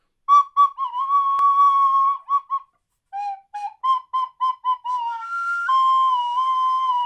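A beginner plays a recorder, a thin breathy tone moving through short wavering notes and a few held pitches, with pauses and slightly unsteady pitch, close and clear, no talking.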